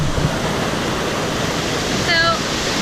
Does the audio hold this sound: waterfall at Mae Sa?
yes